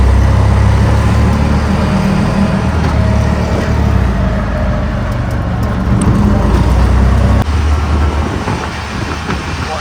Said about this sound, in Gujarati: તો આપણે રિક્ષા પકડી છે.